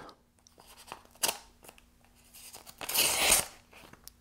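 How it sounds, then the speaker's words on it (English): A Spyderco Stretch knife slices open a paper envelope, giving a few short papery rips and scrapes with a louder, sustained tearing cut near the end, fairly close and without talk. "Cutting open an envelope."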